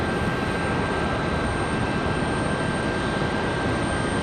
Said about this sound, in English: Got an arrival, looks like an exec jet.